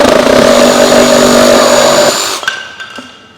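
A Milwaukee Hackzall reciprocating saw runs loud and close with a harsh, steady cutting whine for about two seconds, then winds down and stops, leaving faint clicks and a fading hum.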